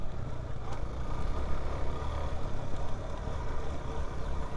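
A Suzuki DR-Z400S dual-sport motorcycle chugs off-road in second gear, its engine a rough, continuous low rumble heard close, with wind and terrain noise mixed in.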